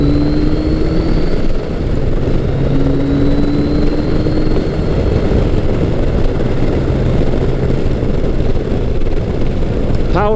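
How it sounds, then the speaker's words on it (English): A Kawasaki Concours 1000 sport-tourer with a 1000cc 16-valve engine runs while being ridden, producing a steady, close engine hum with faint wind rush and a slight pitch change as the throttle shifts. "Power from the 1000cc 16 valve Kawasaki engine is just smooth"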